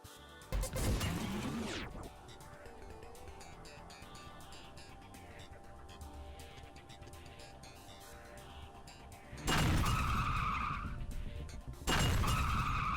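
A car charging in during a Hotline Miami boss fight, with a loud screeching crash at the start, a steady engine drone underneath, and two more harsh smashing bursts near the end, with no talk.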